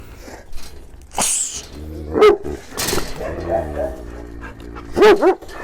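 Dogs bark and yip in short bursts nearby, with low growling and whimpering between, mixed with a person's voice, as the dogs fight a marten that was eating chicks.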